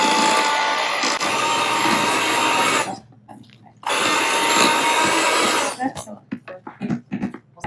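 Potatoes being mixed with an electric mixer, a steady loud whirring broken by a short pause, then restarted and ending in choppy bursts with voice-over talk.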